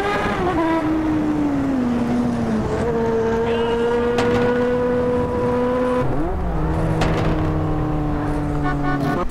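A motorcycle engine in the GTA video game idles and revs, its tone rising and falling with gear shifts and throttle changes, loud and steady throughout with no talking.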